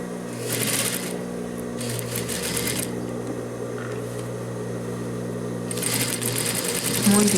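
A sewing machine stitches the seams of men's trousers, its motor running in steady close bursts with short pauses between them, and a faint voice murmurs underneath at times.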